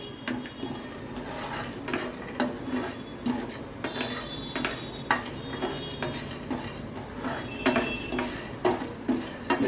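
A spoon stirring handi mutton continuously in a pot, with repeated scraping and metallic clinks over a faint simmer, close and steady.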